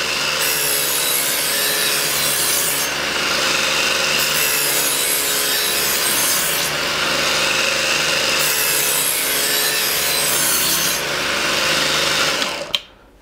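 Steady rhythmic scraping of a blade drawn back and forth across a sharpening stone, continuous and close, with no talking, ending abruptly.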